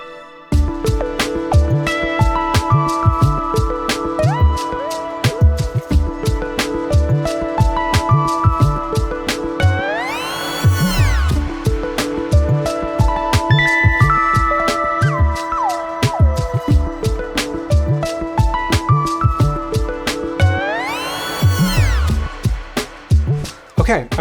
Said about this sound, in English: It starts off as a synth pluck, but with the different air gestures, we can bring in different pad elements.